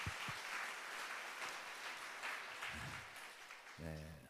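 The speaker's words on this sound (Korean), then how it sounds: "우리 하나님께 다 같이 감사와 영광의 박수 올려드리겠습니다." A church congregation claps together at a Friday night prayer service. The applause is soft and distant and continues throughout, with a few low thumps and a brief voice near the end.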